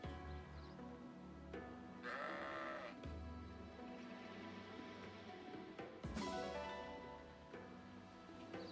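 Sheep bleating in the Fire Emblem Engage video game, a loud wavering bleat near the two-second mark and another around six seconds, set over steady game music.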